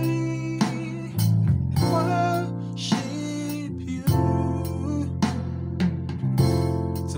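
Piano playing the worship song "We Worship You": sustained chords with a bass line that changes every second or so, the phrases steady and close without any voice.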